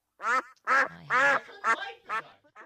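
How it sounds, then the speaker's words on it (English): Ducks quack in six loud, nasal calls close by, spaced out over a couple of seconds, with the last one softer. "Ducks."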